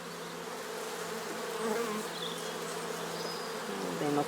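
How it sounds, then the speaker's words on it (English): Honey bees buzzing around a beehive super, a close, continuous droning hum with shifting pitches as individual bees pass near, no talking. "now there are lots of bees in the super."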